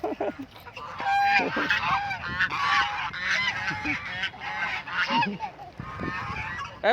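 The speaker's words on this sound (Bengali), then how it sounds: "এই যে হাঁসগুলা পানিতে নামতেছে" A flock of ducks gathers by a river and enters the water, giving a dense, continuous chorus of harsh, overlapping quacks and honks close by, with faint human voices now and then.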